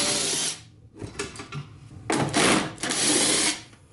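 A power drill backs two screws out of the top of a Chamberlain chain drive garage door opener, whirring close and loud in three bursts with short pauses between them.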